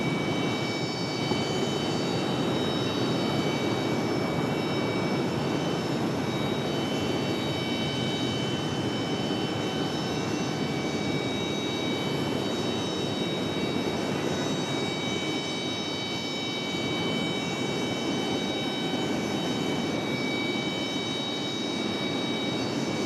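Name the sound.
jet airliner taking off at Raleigh Durham airport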